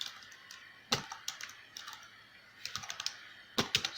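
Computer keyboard typing C program code, quiet irregular key clicks in short bursts with a few louder presses, no talking.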